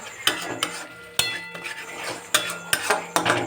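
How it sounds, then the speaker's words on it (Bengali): A spatula stirs frying masala in a pan, giving several distinct scraping knocks over a low sizzle, close and fairly quiet. "খুন্তি দিয়ে ভালো করে নাড়তে হবে না তো তলে লেগে যাওয়ার চান্স আছে"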